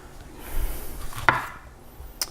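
A knife chopping a tomato on a cutting board while making Indian red lentil dal, a few soft cuts leading to one sharp knock against the board and a lighter tap after, close and quiet.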